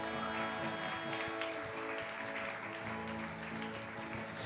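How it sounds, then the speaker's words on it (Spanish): Church congregation clapping in steady applause for the Lord amid worship music, with sustained instrumental tones underneath and faint background voices. "Dale un fuerte aplauso al Señor."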